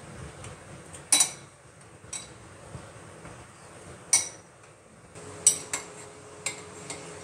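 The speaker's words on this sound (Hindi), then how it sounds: "अब हम सबसे पहले सब्जी को मैश करेंगे" Cooked vegetables for pav bhaji being mashed in a metal pan, heard as sparse, sharp metallic clinks and taps of the masher against the pan, spaced irregularly over a quiet background.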